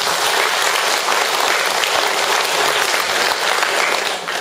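An audience at a religious promotion training ceremony claps together in sustained, dense, loud applause that fills the whole stretch before tapering at the very end.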